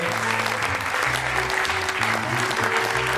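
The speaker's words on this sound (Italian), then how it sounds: "Un applauso a loro." Applause from an audience at a book presentation, steady clapping throughout with a low tonal hum beneath and voices faintly mixed in.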